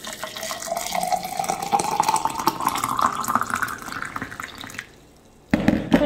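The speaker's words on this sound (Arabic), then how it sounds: "هيا صافي نخوي عليه الماء طيب" Water streams into a vessel over ground licorice root and anise, a continuous pouring splash whose pitch rises as the container fills, then a brief pause before a short clatter.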